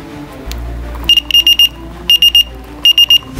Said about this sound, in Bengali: বৃষ্টির পানি দেওয়ার সাথে সাথে দেখেন ওই সিগন্যালটা কাজ করবে।